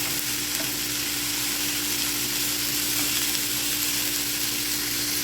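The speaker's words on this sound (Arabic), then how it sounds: "هنديله بس التشويحه كده يدبل بس، والبصل والفلفل يطلع الريحه بتاعته الحلوه دي" Onions and peppers sauté in a hot pan, giving a steady, dense sizzle and crackle that continues without a break, close-up and with no voices.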